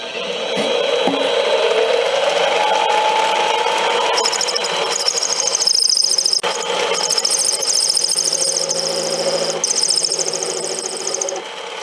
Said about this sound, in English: I'm going to use the knobs on my lathe to cut the grooves.